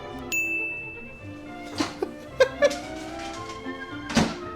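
A single bright ding rings out early and sustains, followed by assorted clunks and thumps, with some voices in the background.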